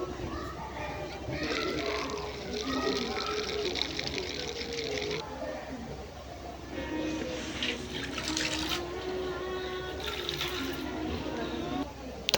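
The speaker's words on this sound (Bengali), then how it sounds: "পানি দিয়ে ভিজিয়ে রাখছি" Water runs and splashes as it is poured over lentils in a kitchen to soak them, a steady liquid rush that fades and returns in bursts, with someone talking over it.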